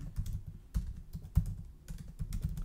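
Code typed on a computer keyboard, a quick uneven run of close, crisp key clicks with short pauses between bursts.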